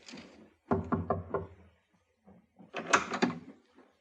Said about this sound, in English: Captain knocked.